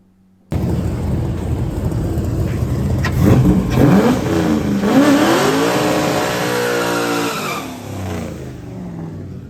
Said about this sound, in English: for the next pass I decided to throw some launch RPM at it and tighten the clutch up